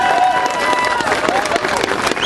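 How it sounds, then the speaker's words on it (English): A crowd at a gun rights rally in Annapolis applauds a woman organizer, steady clapping and some cheering throughout with voices mixed in. "Again, yeah, give her a round of applause,"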